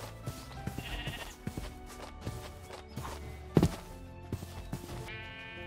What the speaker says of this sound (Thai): ขอค่อยไปล่อลวงแกะเพิ่ม